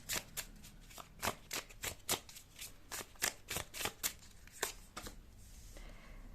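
Tarot cards being shuffled by hand for a pick-a-card reading, a run of quick crisp riffling flicks with short pauses, close and alone with no talking.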